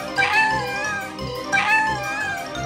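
Kittens give two clear, close meows about a second and a half apart, each a drawn-out mewing cry with quiet pauses between them.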